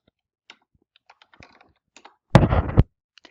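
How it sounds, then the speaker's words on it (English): A computer keyboard gives scattered soft key clicks, then a short, louder burst of rapid clattering typing, then a few more isolated taps. "I am going to type in a name of something."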